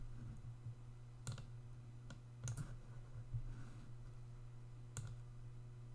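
Computer mouse clicks on a desk, several sharp isolated clicks spaced irregularly over a low steady electrical hum, quiet and close, no talking.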